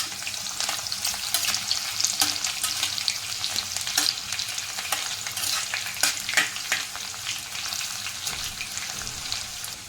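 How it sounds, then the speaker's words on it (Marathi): Crushed garlic frying in hot oil in a pan for a fenugreek vegetable dish, a steady dense sizzle with intermittent scraping stir clicks throughout, close and fairly loud, no talking. "हा ठेचलेला लसूण हा टाकायचा आहे चांगलं तेलामध्ये आपल्याला परतून घ्यायचा आहे"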